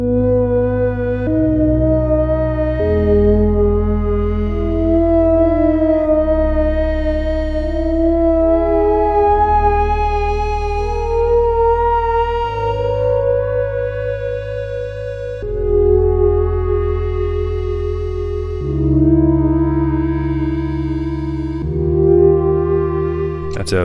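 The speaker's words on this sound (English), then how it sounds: "That's a beautiful pad. Bit of reverb on that" Smooth, thick synth pad from a Commodore 64-style chip synthesizer with reverb, sustained chords shifting step by step in a slow progression, fairly loud and alone.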